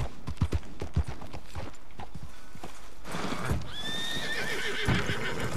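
A horse in Red Dead Redemption II clip-clops at a quick gallop, hooves thudding rhythmically up close, then gives a loud, clear neigh near the end.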